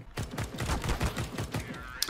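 Rapid automatic gunfire in a Counter-Strike match, a fast burst of repeated shots for about two seconds, loud and close, ending with one sharper crack.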